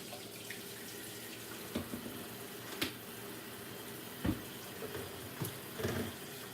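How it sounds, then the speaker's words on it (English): Hands washed under a running kitchen tap while cooking breakfast, a steady hiss of flowing water with a few louder splashes and clunks as hands move under the stream, close and alone without speech. "Just wash my hands."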